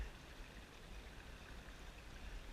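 Steady, soft water flow of a small creek, a continuous gentle babbling with no voices.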